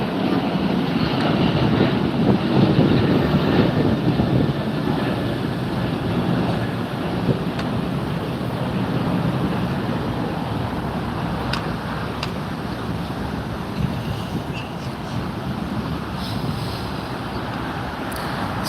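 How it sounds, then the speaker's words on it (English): American airliner taking off at LAX, heard from Imperial Hill as a broad, steady jet roar that stays loud and continuous throughout, blended with wind buffeting the microphone. "American flight taking off."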